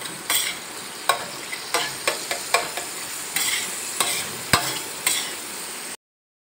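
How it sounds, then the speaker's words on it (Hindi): Minced meat with spices being stirred on a tawa: repeated scraping strokes of a spatula, roughly one every half second, over a soft sizzle, close and clear, ending in abrupt silence. "अब इसको अच्छे से मिक्स कर ले रहे हैं।"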